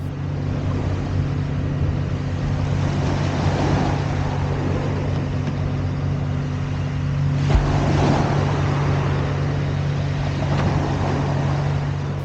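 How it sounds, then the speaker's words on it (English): Behind a coastal fishing spot on the North Kent shore, a tractor mows grass on sloping ground. It makes a steady, low engine drone that stays at a moderate distance, with a brief bump midway through. "that's been broken by the sound of a tractor mowing the lawn on the slopes behind me"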